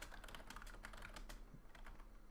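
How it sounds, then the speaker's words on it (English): Rapid, steady keystrokes clatter on a computer keyboard, a dense run of soft clicks at close range and low level, with no speech over them. "Click clack of keyboard"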